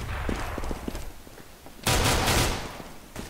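Rapid gunshots crack in a Counter-Strike-style shooter match, a sharp burst of fire at close range followed by a few quieter shots, with faint commentary voices underneath.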